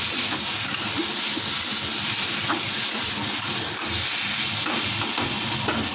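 Fish curry with potato and pointed gourd being stirred and sautéed in a pan, giving a steady hiss and sizzle with scraping clatter throughout, close and continuous with no talk.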